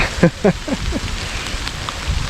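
Hail or heavy rain patters steadily on an umbrella held overhead outdoors during a solo backpacking trip, a dense close rattling that continues throughout, with a few brief vocal sounds near the start.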